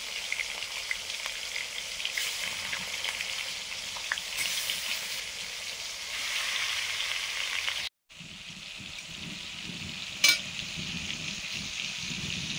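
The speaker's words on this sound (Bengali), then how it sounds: "মাছ ভাজবো, সর্ষে তেল দিলাম। মাছ ভেজে দিচ্ছি এখন।" Katla fish pieces fry in hot mustard oil with a steady, dense sizzle throughout, briefly cutting out before resuming with a sharp pop or clink near the end.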